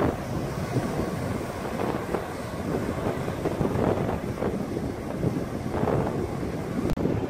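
Swellpro water drone flying low and accelerating over water, heard as a steady broadband rush of wind and water noise buffeting the microphone, with no clear motor whine standing out.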